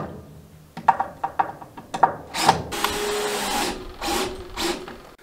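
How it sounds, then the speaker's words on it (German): Wooden bed planks for a Chevy C10 pickup are screwed together: a series of sharp clicks and ratcheting taps, then several loud, whirring bursts of a power driver sinking screws, close by. "Ich habe jetzt das schnell zusammengeschraubt."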